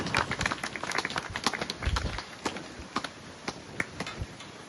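Scattered, uneven clapping comes from a community event audience in Brampton, Canada, with sharp individual claps standing out over a thin background patter and a low thump or two.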